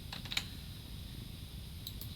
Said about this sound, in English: I'm just typing it in